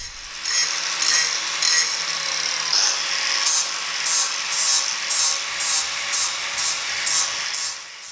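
An angle grinder fitted with a flap disc smoothing a surface with light pressure, a hissing high-pitched whir that swells and fades in regular back-and-forth passes, close and moderately loud.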